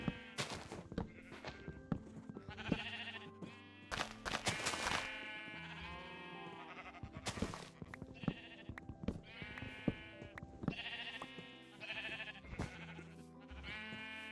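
Sheep in a Minecraft survival game bleat repeatedly, several overlapping calls at a steady pace, fairly loud and close with no talking.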